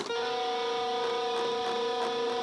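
A sustained distorted electric guitar chord rings out bright and buzzy, held steadily for a couple of seconds with no one talking.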